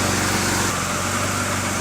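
A car engine running with water in the exhaust, a loud, close, steady rumbling drone with a fast pulsing throb and a hissy, rough texture throughout.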